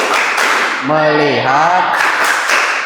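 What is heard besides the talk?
class doing the rhythmic 'tepuk fokus' clapping routine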